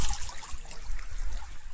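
Cold water trickling along a small village stream, a steady close babble of flowing water continuing alone throughout.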